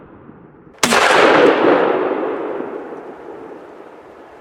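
A single loud, close blast from a Browning A5 shotgun firing a Winchester turkey load outdoors, a sharp crack followed by a long, fading rumble of echo.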